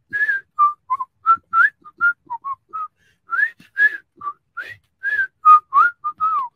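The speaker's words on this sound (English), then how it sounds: "he just sits in the corner and whistles Andy Griffith" A person whistles a bright, melodic tune meant as the Andy Griffith Show theme, in short separate notes and phrases at a steady, relaxed pace, close and clear with no talking.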